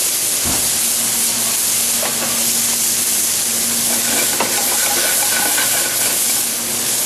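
Green onions sizzle steadily in a hot pan alongside sablefish, a constant close frying hiss with a few light clicks and pops, no voices.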